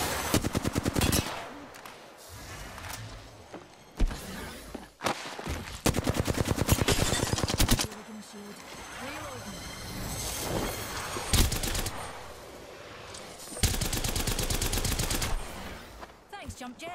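Rapid automatic gunfire bursts in Apex Legends, loud and close, coming in repeated sustained volleys separated by short gaps, with game effects and a voice talking between them.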